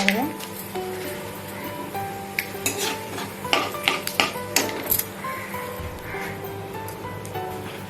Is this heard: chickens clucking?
no